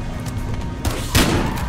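Shotgun blasts from a 870P Magnum in the Battlefield Hardline game, two loud booming shots about a third of a second apart against a steady background of game noise.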